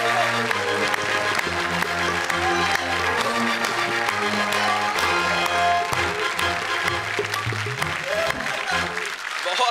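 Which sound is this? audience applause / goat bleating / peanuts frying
audience applause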